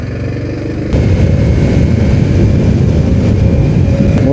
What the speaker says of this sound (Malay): Motor yang aku pakai ialah motor Yamaha MT-15.